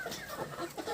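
Chickens cluck softly nearby, several short overlapping clucks in quick succession.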